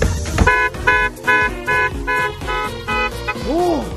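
A car's anti-theft alarm honks in a loud repeating pattern, harsh horn blasts pulsing about twice a second, close by, ending with a rising and falling electronic siren sweep.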